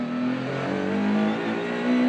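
Maserati MC20 GT2 race car engine on track winding up through steady high revs, a loud continuous onboard drone with rising harmonic tones and a surge near the end.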